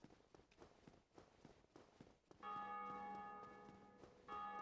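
In the Dark Souls video game, a church-style bell rings out clearly after a run of quick footsteps, its bright sustained tone sounding twice in succession and ringing on over the fading steps.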